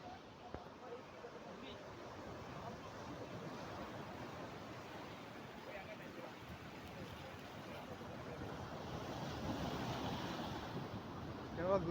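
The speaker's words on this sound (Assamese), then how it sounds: "এয়া ঢৌ মাৰিছে সাগৰ ঢৌ চাওক কেনেকুৱা" Ocean waves surge and break steadily along the shore at Kanyakumari, a continuous broadband wash of surf with wind that swells louder toward the end, while people talk in the foreground.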